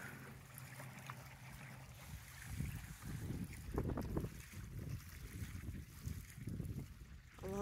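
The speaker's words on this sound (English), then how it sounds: "Listening to the sound of the water splashing away." Gentle water splashing and lapping in an outdoor setting, steady and low, with faint wind noise and a few louder splashes partway through.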